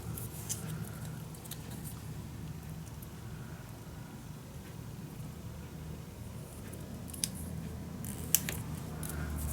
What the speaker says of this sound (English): We can cut this in half.